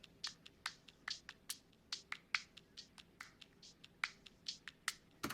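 Clap and hi-hat drum samples loop together in a simple beat, sharp transient hits repeating in a steady pattern at moderate level with no voices.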